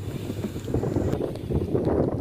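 Strong wind gusts buffet the microphone at a campsite at Telaga Cebong, Dieng, during rain on a cold night, a rough, blustery low rumble that rises and falls continuously and fairly close, with no voices.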